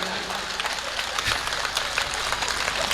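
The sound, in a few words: audience clapping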